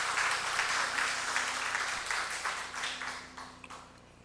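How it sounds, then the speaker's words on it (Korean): Sustained applause from a church congregation for its choir at a Sunday worship service, a dense wash of many hands clapping that holds steady and then slowly thins out. "다시 한번 박수로 격려하겠습니다."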